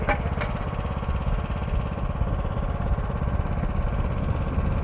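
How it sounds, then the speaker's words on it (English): A ride-on lawnmower engine runs steadily and close by, a continuous low droning rumble with an even pulse that holds throughout with no talk over it. "Are you gonna ride on the lawnmower with her?"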